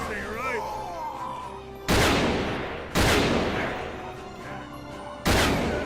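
Gunfire in the video game Fallen Aces: three loud, sharp blasts spaced roughly a second or more apart, each with a short booming decay, over a low background hum.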